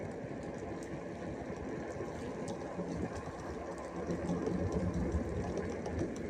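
Segway ZT3 Pro electric scooter climbing a steep, roughly 23–24% snowy slope in D mode: a steady, continuous motor and tyre drone with broadband noise that swells slightly louder toward the end, no talking.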